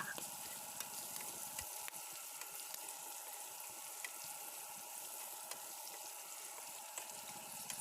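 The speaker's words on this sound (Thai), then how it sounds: "เราจะทอดพอให้กระเทียมของเราเหลืองกรอบค่ะ" Crushed garlic and bird's eye chilies frying in hot oil, a steady close crackling sizzle with occasional stirring clicks, no talking.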